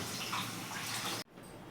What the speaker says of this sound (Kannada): ಸ್ವಲ್ಪ ನೀರು ಜಾಸ್ತಿ ಹಾಕೊಂಡು ತೊಳಿಬೇಕು ಸೊಪ್ಪಣ್ಣೆಲ್ಲ